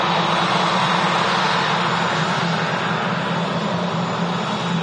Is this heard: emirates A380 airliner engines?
yes